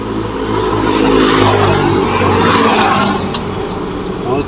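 A road vehicle's engine revs and accelerates on the way home from market, a loud, close, rising mechanical drone that swells in the middle and eases off toward the end.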